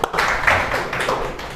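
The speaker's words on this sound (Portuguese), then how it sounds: "Roboão, palmas para Brenda." Students in a class give a short burst of clapping for a classmate who answered right, brief and moderately loud, with faint room noise underneath.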